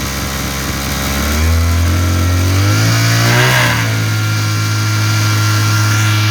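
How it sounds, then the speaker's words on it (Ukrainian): A small mini generator engine runs steadily close by, its hum rising in pitch midway as the throttle is opened, then holding a constant revving drone with no talk. "зараз двигун робить"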